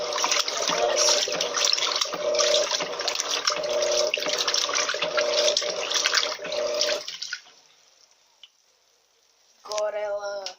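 An LT12F washing machine in its rinse cycle, with water gushing and sloshing loudly and steadily for about seven seconds. It then falls nearly silent before a short burst of mechanical sound at the end.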